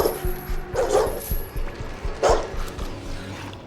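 A dog in a Daredevil episode scene gives two sharp, loud barks about a second apart, close by, with whimpering and yips between them over a low room background.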